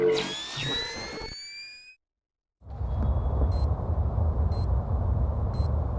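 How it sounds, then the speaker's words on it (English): In Splinter Cell: Double Agent on PS2, a wall mine gives a high electronic chirp sweeping upward, then after a brief silence a steady mechanical hum runs with three short high beeps repeating at even intervals. "That's the sound of a wall mine."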